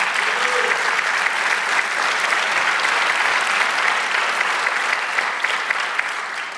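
A church congregation claps loudly and steadily during a sermon, dense sustained applause filling the room for several seconds with a brief voice near the start.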